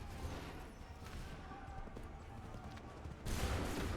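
A musket volley in Assassin's Creed III, a dense burst of crackling gunfire in battle amid shouted commands and ambient noise, ending in a louder rush of shots.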